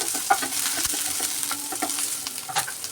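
Onions sautéing in oil in a pan for dosa with mint chutney, a steady close sizzle with scattered scrapes and clicks of stirring and no voices.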